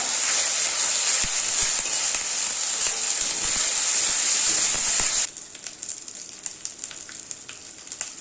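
Ground garlic and cumin paste hits hot oil in a pan with a loud, dense, continuous sizzle that abruptly drops to a quieter crackle with scattered pops, close up and without voices.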